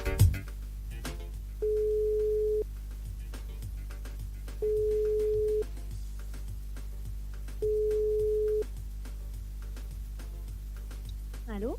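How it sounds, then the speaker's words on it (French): Repeated steady telephone tone pulses sound while a call to a radio show caller is being placed, three clear evenly spaced beeps about a second long over a low hum. "Après on appelle Christopher."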